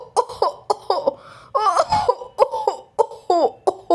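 Repeated coughing from a cartoon bear doctor in a children's story, a series of short cough bursts spread across the clip, close and clear with no talk.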